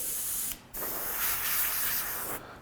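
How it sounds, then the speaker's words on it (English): Two steady bursts of spray hiss, close and fairly loud, separated by a short pause, as candy green paint is sprayed from a spray gun. "If I spray it on here"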